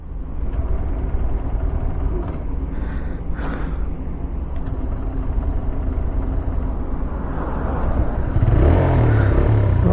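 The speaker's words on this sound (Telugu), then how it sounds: "బైక్ అయితే మళ్ళీ స్టార్ట్ అయింది" A 2026 TVS Raider motorcycle engine idles with a close, steady mechanical rumble, then rises into a louder rev toward the end, with light clatter along the way.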